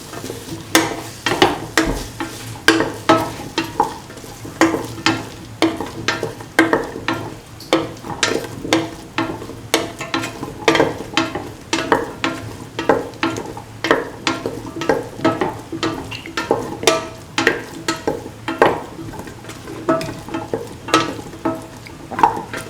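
Cauliflower, potato and coconut milk rice is stirred and sizzled in a frying pan, with a steady frying hiss broken by frequent rhythmic scraping and clinking as the utensil turns the rice.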